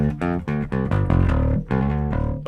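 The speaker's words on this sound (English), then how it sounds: "The bass guitar itself sounds like this." A bass guitar played dry, straight into a computer with all effects switched off: a run of distinct plucked notes in quick rhythm, clear and close, with no talk.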